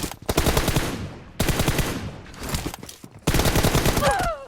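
Machine gun fire in PUBG Mobile, three long rapid bursts of loud, close automatic shots separated by short pauses, with a brief metallic ring near the end.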